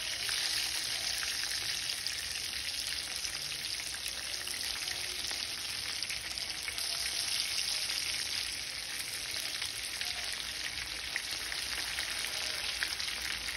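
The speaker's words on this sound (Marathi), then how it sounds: "तेल गरम झालेलं आहे, त्याच्यामध्ये वांगी सोडायची आहे।" Stuffed brinjals frying in hot oil in a pan over a medium flame, giving a steady, even sizzle that carries on without a break and with no voices.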